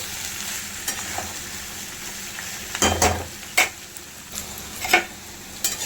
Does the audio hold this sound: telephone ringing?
no